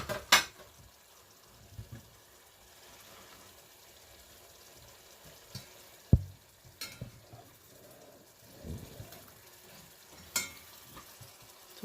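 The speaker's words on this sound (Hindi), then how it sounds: "तो ये भून जाए तो फिर मैं इसमें गाजर और शलजम डाल के थोड़ी देर पकाऊंगी।" Green chillies frying in a pan for Old Delhi style shab degh, a faint steady sizzle underneath occasional scrapes and knocks of a spoon stirring against the pan.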